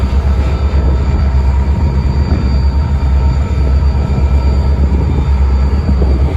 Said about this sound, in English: Here we see the CN Kirkyard hump job shove in to the yard in Gary, Indiana.